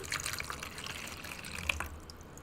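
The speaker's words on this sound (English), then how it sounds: "Get your water ASMR noises." Water poured into a volcano model mix, a soft trickling and dripping with scattered small splashes, close and fairly quiet.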